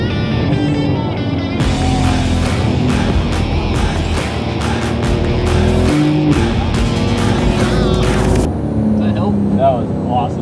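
Several Porsche race cars drive hard around a track during a first-time track day, with loud, continuous engine roar, rising and falling revs and shifting pitch close by throughout.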